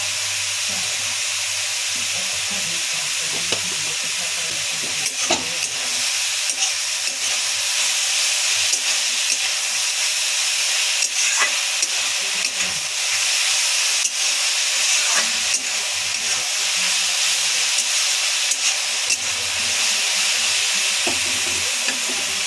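Banana blossom frying with salt and turmeric in a pan, a constant loud steamy hiss and sizzle with occasional stirring clicks, heard alone without speech.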